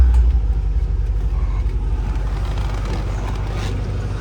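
A 1966 Oldsmobile Toronado with a 385-horsepower engine idles steadily, a low, even rumble that holds close and constant throughout with no talk over it.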